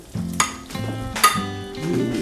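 Pieces of food fry in a pan on a home stove, giving a close, steady sizzle broken by sharp metallic scrapes and clinks as they are moved around.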